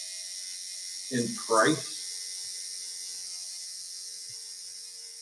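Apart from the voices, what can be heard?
coil tattoo machine buzzing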